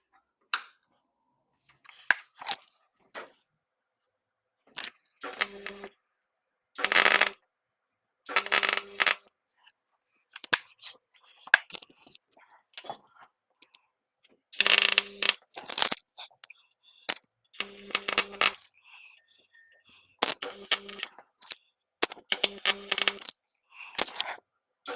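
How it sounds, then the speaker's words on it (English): Steel section being welded onto a lower section in a rear-end structure repair, heard as close, loud bursts of crackling weld spatter lasting a second or two each, separated by quiet pauses, with short metallic clicks and handling noises between the bursts. "what I have to do is just weld this section to this lower section now"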